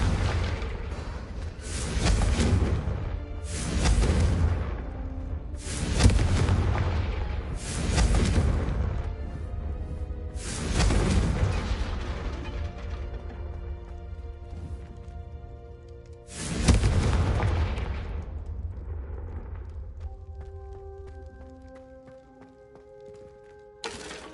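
Confringo fire-spell explosions in the game Hogwarts Legacy, a series of about five loud booming blasts at irregular intervals, each ringing out with a lingering rumble and tonal tail before fading near the end.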